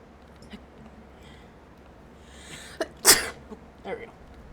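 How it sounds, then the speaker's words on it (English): A single sneeze bursts out close to the mic about midway, with faint muffled talk and breathing before it during a Legend of Zelda: Tears of the Kingdom gaming session. "I need to fucking sneeze"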